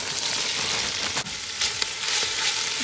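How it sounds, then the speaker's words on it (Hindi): Vegetables sizzle steadily as they are stir-fried with spices in hot oil: kale, peppers, bean sprouts, onions and cabbage. The hiss is loud, close and continuous, with faint stirring scrapes. "इसको आप उसी मसाले के साथ स्टर फ्राई करें।"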